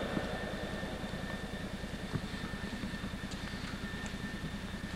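A General Dynamics F-111E jet engine running up at RAF Upper Heyford in the UK gives a steady, close, loud mechanical roar with a fast rhythmic low pulsing throughout and no voices.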